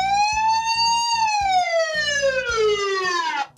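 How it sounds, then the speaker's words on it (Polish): A loud electronic siren from an outdoor 5MP PTZ WiFi security camera wails close by, its pitch rising and then sweeping steadily down before cutting off. "Dodatkowo można uruchomić alarm dźwiękowy, który wyda z siebie kamera. Domyślnie jest taka syrena."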